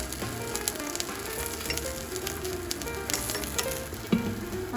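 Eggplant pieces frying in a little oil in a pan for a mapo eggplant dish, a steady soft sizzle with faint clatter and one brief knock near the end, no talking.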